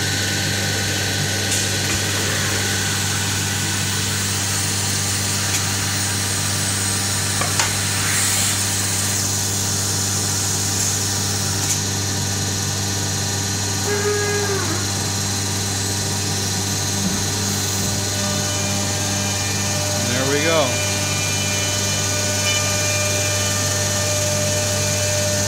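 Biesse Rover 24 CNC router running a resurfacing pass over a spoil board: a steady, loud machine hum with a constant low drone and faint whine throughout, a few brief higher squeals and scrapes rising over it.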